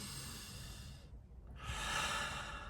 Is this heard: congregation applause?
no